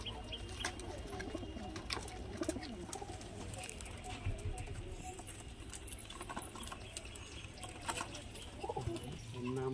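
Curved-beak Madras pigeons in a loft coo softly and steadily, with faint patters and flutters, while someone talks over them.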